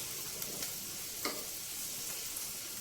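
Onions fry in a pan for a carrot and dried prawn curry, producing a quiet, steady sizzle with a few soft scrapes and ticks scattered through it.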